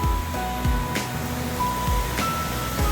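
A waterfall in the countryside of Vikhare Gothane village near Rajapur, roaring as a steady broadband rush, close and continuous, with a few faint knocks and a low hum under it, no voices.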